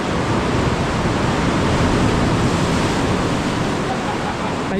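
Ocean waves crash against rocks beside a sea cave at La Jolla, San Diego, a steady loud wash of surf filling the space without any talk.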